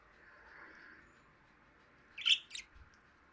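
Budgies at a nest box give a short cluster of two or three sharp, high chirps near the end, fairly close over a quiet room background.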